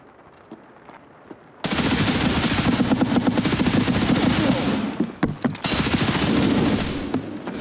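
Automatic gunfire in Escape From Tarkov 0.11.7 on the Shoreline map rattles out in long, loud, rapid bursts after a quiet opening, with a brief stutter and pause midway before the firing resumes.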